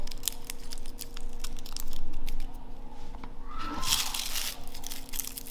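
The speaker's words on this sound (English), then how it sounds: "I'll put the knife here and I'm going to chop it open" A knife chops food on a cutting board in a home kitchen, giving a scatter of sharp, close taps and crunchy cuts, with a louder crunching burst near the end.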